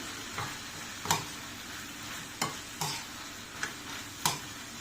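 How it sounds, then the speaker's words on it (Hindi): Cauliflower pieces for gobi manchurian are stirred into a sizzling sauce in a pan, giving a steady quiet fry hiss broken by several sharp scraping strokes of the spoon, close and moderately soft, with no talk. "सॉस तैयार होते से ही मैं इसके अंदर ये सारे गोभियों को मिक्स कर दूंगी"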